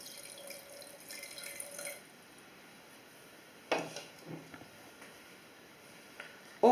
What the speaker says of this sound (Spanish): añadiremos un poquito de agua